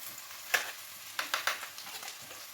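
Tomato paste going into a hot frying pan, a soft sizzle with a few quick scraping clicks and taps from a spoon, close and fairly quiet, with no voices.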